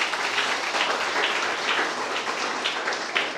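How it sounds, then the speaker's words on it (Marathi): Audience applause for a priest at a Christmas gathering, a dense, steady clatter of many hands clapping together throughout, fairly loud and with no talk over it. "म्हणून एकदा आपल्या फादरसाठी आपण एकदा सगळ्यांनी टाळ्या वाजवा."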